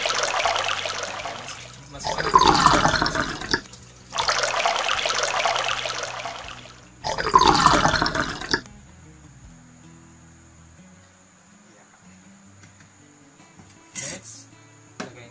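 Liquid poured into a blender for malunggay cheese puto batter, several gushing pours of a few seconds each separated by pauses, loud and close, followed by quieter handling sounds.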